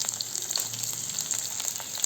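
Dried red chillies fry in hot oil with a constant soft crackling sizzle, close and fairly quiet throughout the brief stretch, with no talking.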